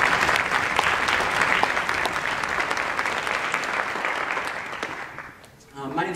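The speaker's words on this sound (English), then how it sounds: "How about one more round of applause for the Community Band?" A concert audience at a university wind ensemble Christmas concert gives a sustained round of applause for the community band, dense steady clapping filling the hall for about five seconds before tapering off.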